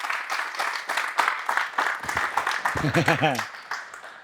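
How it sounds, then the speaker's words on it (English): Audience applause for Frank Shamrock at a martial arts leg lock seminar: dense, sustained clapping filling the room throughout, with a brief voice cutting in near the end. "Let's give him a round of applause."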